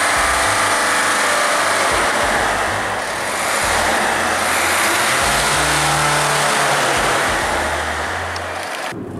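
Car driving home on the road after a stay at the service garage, giving a steady, loud engine and road roar from inside that swells slightly and continues throughout.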